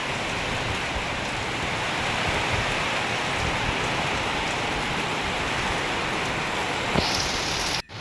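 Heavy rain pours down steadily in a continuous dense hiss on a house roof and surroundings, loud and unbroken, with a brief knock near the end.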